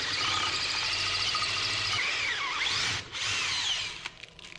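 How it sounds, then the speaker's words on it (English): A power drill with a bent bit whines steadily at high speed, loud and close, its pitch wavering and dipping briefly before it spins down near the end. "I think it's the drill bit is bent for some reason. I've tried it in this drill and my other drill."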